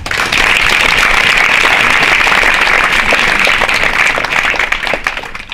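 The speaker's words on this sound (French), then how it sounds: "Vous pouvez l'applaudir, merci." An audience at a startup talk event in Nantes breaking into loud, sustained applause for a speaker, a thick continuous roar of many hands that swells quickly and tapers near the end.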